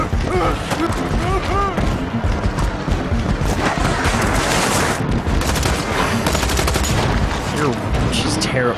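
Rapid, dense gunfire from the video game Tales from the Borderlands, loud bursts and volleys that continue steadily with crashes among them while a voice talks over the fighting.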